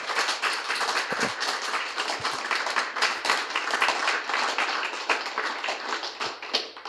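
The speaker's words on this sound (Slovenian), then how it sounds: "en velik aplavz Zoranu za vse ustvarjeno" An audience applauds author Zoran Smiljanić at a literary event, a steady, dense patter of many hands clapping together at close range, running unbroken from start to finish.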